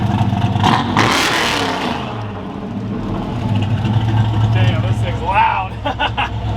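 A Ford Galaxie's engine revs and whirs, loud and close, its pitch rising and falling with a steady drone beneath, as someone talks over part of it.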